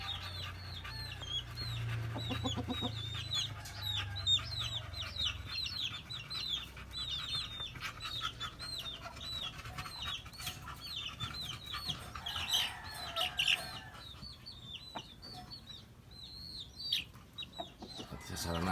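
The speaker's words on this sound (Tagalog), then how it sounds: "Pumasok na yung mga manok." Chickens clucking steadily through the whole stretch, with many overlapping rising calls and busy farmyard chatter over a low rumble, fairly close and continuous.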